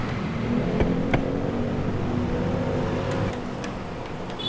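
A conventional automatic (matic) scooter engine idles steadily after starting, a low continuous rumble with a few faint ticks and clicks over it.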